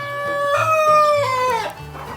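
A young, skittish pullet on a poultry farm gives a loud, close drawn-out crow-like call that falls in pitch and stops abruptly, alone.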